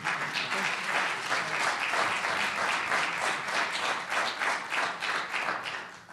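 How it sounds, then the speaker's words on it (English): Polite applause from a town hall audience at a mayor's budget meeting, steady dense clapping from many people that holds for several seconds before beginning to fade. "That was polite applause that you all provided."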